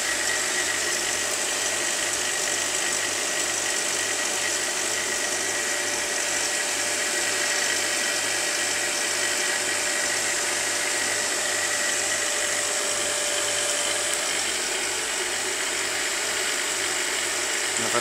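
Steady droning hum of a vacuum pump running throughout an electric arc experiment, with a constant mechanical buzz and faint rhythmic pulsing low down, loud and unbroken with no voices.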